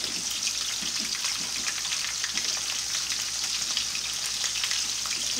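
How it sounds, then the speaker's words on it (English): Meat searing in a frying pan at home during Sunday dinner cooking, three pieces at a time, giving a steady, loud, close crackling sizzle that runs without pause and with no talking. "Get a nice sear on them."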